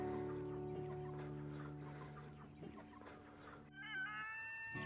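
Farm chickens cluck softly at a distance in a rural yard, a few scattered low clucks over a quiet background, no talk.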